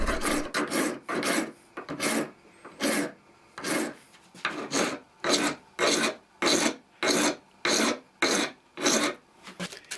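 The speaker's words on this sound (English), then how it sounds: "Then I mount it on my small vise and spend some time filing away down to the finished dimension." A file rasps across a brass pin clamped in a small vise, about twenty even, rhythmic strokes in steady succession, close and clear with no talking.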